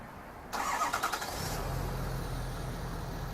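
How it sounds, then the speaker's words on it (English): A 2012 Ford F-250 Lariat FX4 pickup starting by key fob remote start: a brief cranking burst, then the engine catches and settles into a steady low idle, heard from nearby outdoors. "As you can see, the remote start does work."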